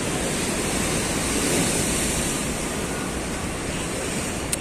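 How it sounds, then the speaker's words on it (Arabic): Sea waves wash onto the shore at Ibrahimiya in Alexandria, a steady, loud roar of surf with a continuous broadband rush and no talk over it. "وإحنا في منطقة الإبراهيمية على البحر"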